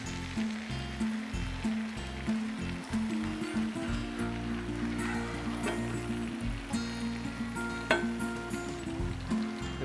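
Shrimp frying in butter with spices, a steady close sizzle throughout, with faint background talk and humming under it.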